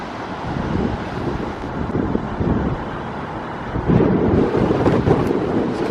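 Gusty outdoor breeze buffets the microphone in a steady low roar, swelling stronger toward the end, with no voices.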